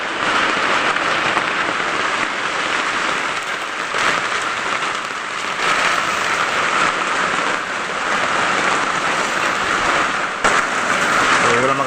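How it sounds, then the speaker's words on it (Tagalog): Heavy typhoon rain pours down on a farm, a dense, continuous hiss of drops hitting surfaces that stays loud and unbroken throughout. "kasi naging umulan"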